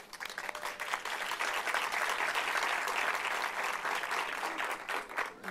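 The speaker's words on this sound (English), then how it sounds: "you may applaud for your country of origin as you rise to be recognized" Guests at a naturalization ceremony applaud as new citizens rise to be recognized for their country of origin, a fairly quiet, sustained patter of many hands that swells and then tapers off near the end.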